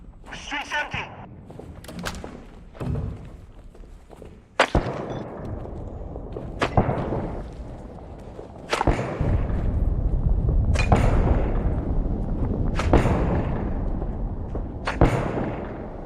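Mortar fire in the military shooter Six Days in Fallujah: several heavy booming impacts spaced a couple of seconds apart, each followed by a rumbling tail, with voices talking in between.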